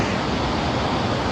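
Spahats Falls, a waterfall in Canada, makes a steady, dense roar of rushing water, loud and unbroken throughout, with no voices.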